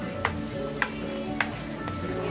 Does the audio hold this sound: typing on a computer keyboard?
no